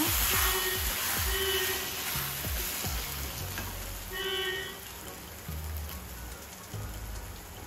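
Chicken pepper masala curry sizzles and fries steadily in hot oil, with the scrape of a spoon stirring the pan every second or so.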